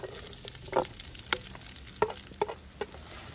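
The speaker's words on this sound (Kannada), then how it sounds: "ಈಗ ಇದಕ್ಕೆ ಹಾಕ್ತಾ ಇದ್ದೀನಿ 2 ಈರುಳ್ಳಿ." Two onions fry in coconut oil in a pan, a soft continuous sizzle broken by several sharp clinks and scrapes of stirring, with no one talking.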